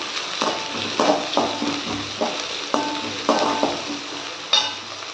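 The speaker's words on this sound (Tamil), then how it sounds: "வெங்காயம் சேர்த்தாச்சு நல்லா கலந்து விட்டுக்கலாம்" Onions frying in a pan for a meal maker gravy are stirred with a utensil, giving a steady loud sizzle broken by repeated scraping strokes and a few metallic knocks against the pan.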